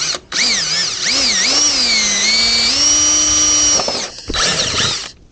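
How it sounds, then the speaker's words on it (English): An electric drill whines loudly nearby while drilling a hole to install a backrest on a Polaris Sportsman 570 quad, its motor pitch rising and wobbling as it bites in, then briefly stopping and spinning up again. "And we'll drill this one."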